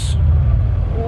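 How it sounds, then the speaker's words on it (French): A dark Mercedes S-Class fitted with a Brabus kit rolls past on a Monaco street, a steady low engine rumble close by with a brief higher hiss at the start. "Très sombre cette classe S là qui arrive."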